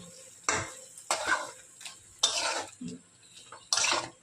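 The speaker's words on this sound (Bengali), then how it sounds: "পেঁয়াজ আদা দিয়েও কষিয়ে নিয়েছি" Onion and ginger masala is stirred in a pan for a fish curry. Four or five separate scraping strokes come with a soft sizzle, loud and close, and no one speaks.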